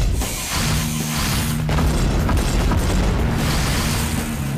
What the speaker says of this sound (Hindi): उसे सोनिक ब्लास्ट से उड़ा दो स्टैनफोर्ड